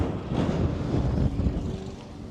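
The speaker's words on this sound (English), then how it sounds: "Oh, it's windy, really windy." Strong wind buffets the microphone outdoors, a loud rumbling rush that gusts and eases without any voices.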